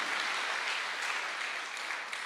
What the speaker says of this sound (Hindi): जोरदार तालियां होनी चाहिए इतनी शानदार संस्था के लिए।